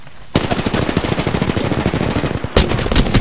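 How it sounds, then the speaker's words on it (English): Automatic gunfire in the video game Apex Legends rattles out in rapid, loud bursts, a long stream broken by a short pause before another burst. "Yeah, getting shot at."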